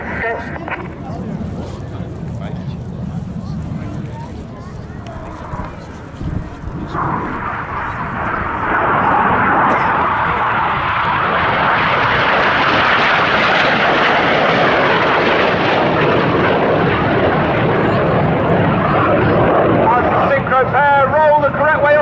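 Red Arrows jets at the Cosford Air Show fly past at about 100 feet in a roaring, rising engine rush that swells and stays loud, with an announcer talking over the early part.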